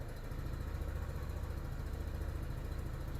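A Lifan KPV 150 motorcycle engine idles, a low, steady, even rumble held close and unchanging throughout, with no voices.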